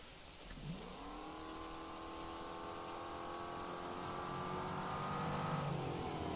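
A race car engine fires up from the game and revs, its whine rising and then holding a steady high drone, fairly faint and alone.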